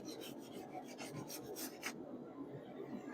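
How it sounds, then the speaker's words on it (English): Rust is scraped off a rusty blacksmith's anvil with a raspy, rubbing scrape in quick strokes for about two seconds, then it stops. The sound is close but faint. "kind of have to scrape away at some of the rust"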